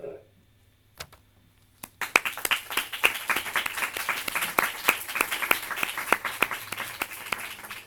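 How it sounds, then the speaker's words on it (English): Audience applause breaks out after a conference presentation on refugees' socioeconomic rights, starting with a few isolated claps and swelling into steady, dense clapping that continues to the end. "We are applauding you."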